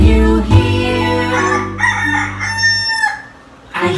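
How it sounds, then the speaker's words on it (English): A rooster lets out one long, loud, close cock-a-doodle-doo crow, followed by a short pause and the start of another call. "I hear a rooster"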